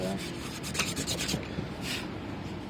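Close, rough rasping of sandpaper sanding a 1/12-scale model car body mold in quick back-and-forth strokes, steady and continuous, with a few louder scrapes.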